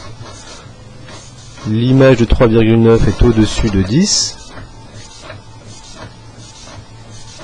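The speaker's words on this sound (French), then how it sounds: "j'ai mon imprimante qui se met en route" A home printer starts up with a loud whirring, ratcheting mechanical run lasting a few seconds, heard under someone speaking French close to the microphone.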